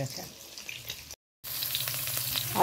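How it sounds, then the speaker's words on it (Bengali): An egg fries in a pan with a steady close sizzle and crackle, broken by a short silent gap, then the sizzle resumes louder and brighter. "ডিমটা ভেজে নিই"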